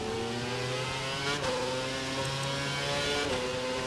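Race cars in the F1 2011 video game accelerating at a restart after a safety car period in Canada, engines droning and rising steadily in pitch, loud and continuous with no talk.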